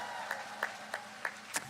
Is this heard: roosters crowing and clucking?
no